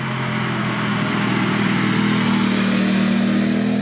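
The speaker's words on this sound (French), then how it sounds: "On a une très belle sonorité, un petit bruit rauque au démarrage quand on est à bas régime" An Aprilia RS 660 motorcycle engine runs at low revs with a raspy, steady idle that holds loud and close throughout, with no voices.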